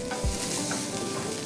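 Onions with grated carrots sautéing in a pan for a healthy breakfast dish, a steady soft sizzle with a brief stirring scrape near the start, close and continuous with no talking.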